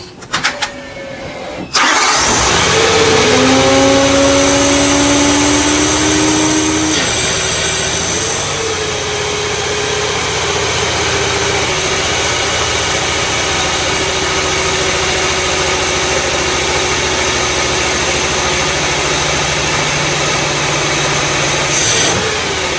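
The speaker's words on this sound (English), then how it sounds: "We do have a running engine." A 2011 BMW E92 M3 salvage car's engine cranks and catches after a couple of seconds, then settles into a steady, loud idle with a rough, uneven hum that continues to the end.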